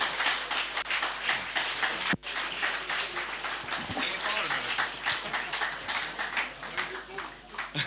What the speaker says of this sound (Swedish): tacka Jeff i en gemensam applåd